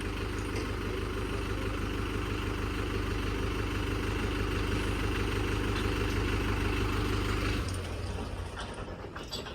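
A diesel generator runs during a power cut with a steady, loud low drone, then its tone drops and changes near the end.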